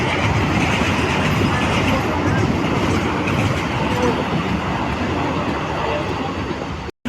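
A train rolls past a level crossing near a rural festival, making a loud, continuous rumble with rattling wheel noise that stays close throughout.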